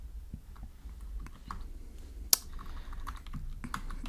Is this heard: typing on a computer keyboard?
yes